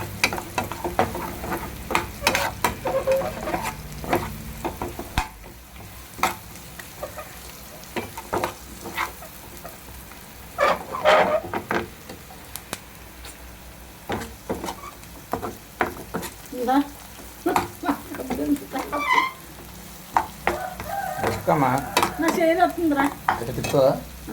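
Thinly sliced onions fry on a medium flame, giving a soft sizzle broken up by repeated scrapes and clinks of a spoon stirring in the pan, with a voice talking now and then under the cooking.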